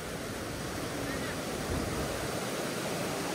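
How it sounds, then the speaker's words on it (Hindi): Monsoon waterfall near Panchgani, a steady, dense roar of rushing, crashing water, loud and close throughout without a break. "वाओ क्या वाटरफॉल है यार"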